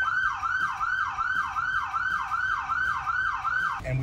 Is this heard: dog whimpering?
no